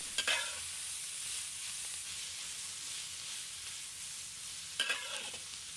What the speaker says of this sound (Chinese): 再把芥菜倒入锅中，快速翻炒，确保芥菜都能均匀受热